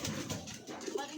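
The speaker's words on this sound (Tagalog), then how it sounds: "dumating na yung ating mga ibon" Racing pigeons coo in a soft, brief murmur, close by, with someone speaking over them.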